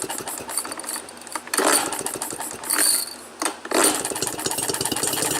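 A Maytag model 72 washing machine engine coughing and firing on a cold start with the choke on, giving rapid uneven popping bursts that surge and fade before catching into a fast, steady putter.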